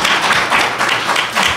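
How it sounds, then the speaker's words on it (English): A conference audience gives a round of applause for a panel, dense rapid clapping from many hands, loud and close, sustained for the whole moment. "We'll give the other panel a round of applause."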